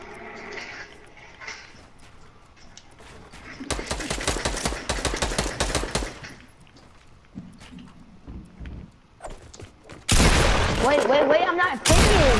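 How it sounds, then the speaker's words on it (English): Pump shotguns boom in a Fortnite firefight, bursts of rapid blasts that come in two heavy clusters with quieter gaps between and a dense loud barrage at the end. "We're having a pump fight."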